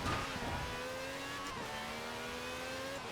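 A car engine in Forza Horizon 4, an all-wheel-drive car driven slowly through corners, holds a steady moderate rev with a brief dip and rise, close and continuous with no talk.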